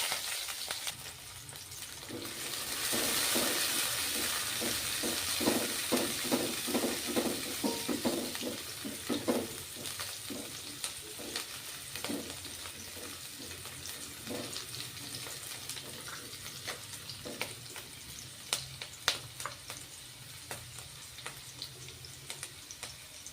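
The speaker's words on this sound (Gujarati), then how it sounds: "તો આપણે સૌપ્રથમ બધા વેજીટેબલનો વઘાર કરીશું" Capsicum and other vegetables sizzle in hot oil for a Gujarati bread cheese pizza, a loud hiss that flares as they go in, then settles into a quieter crackle with stirring clicks.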